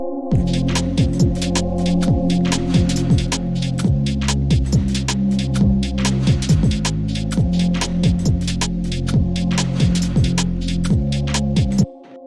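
Sustained future garage synth chords with a fast, shimmering, wobbling chorus and a heavy reverb wash, steady and loud throughout, cutting off near the end.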